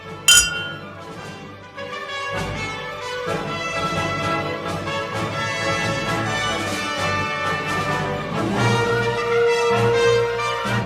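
Glasses clink in a toast, a sharp ring at the start followed by continuous bright, tinkling glassy sounds that stay fairly loud and close throughout.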